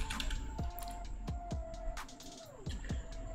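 Keys clack on a computer keyboard as a short search is typed on a Windows 10 PC, a handful of crisp, separate strokes at an uneven pace, close and clear with no talking.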